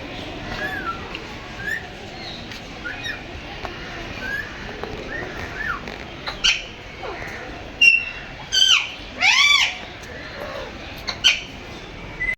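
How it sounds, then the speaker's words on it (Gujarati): A mountain parrot at Sakkarbaug Zoo in Junagadh gives a run of harsh squawks, several close together near the end, over a soft outdoor background. "પહાડી પોપટ"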